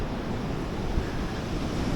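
Rough ocean surf pounds a Brazilian beach with a steady broadband roar, wind buffeting the microphone and one slightly louder wave break near the middle.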